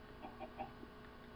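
A chicken in a video game gives a few soft, short clucks spaced across a second or so, faint and close, with no talk.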